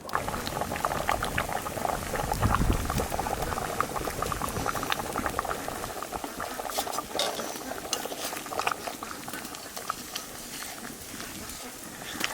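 A pot of elephant foot yam and shrimp curry bubbles and simmers steadily with crackling liquid, with occasional stirring and faint voices in the background.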